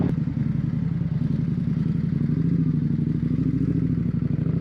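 An Indian Sport Scout Limited motorcycle rides through traffic, its engine putting out a steady low, pulsing rumble with rapid thumping firing beats and some wind, continuous and close throughout.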